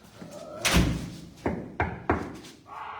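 A door slams with a loud thud inside a room of an improv theater space, followed by several sharper knocks or thumps at uneven intervals, close and reverberant.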